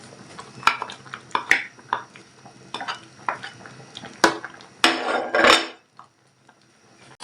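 A spoon stirring okro soup with ugu leaves in a pot, scraping and clinking against the sides in irregular bursts, louder toward the end, then a near-silent pause.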